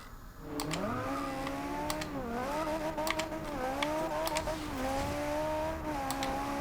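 A Ferrari 458 Speciale racing in Forza Horizon 2, its engine revving high and climbing through short gears with repeated upshifts, loud and continuous.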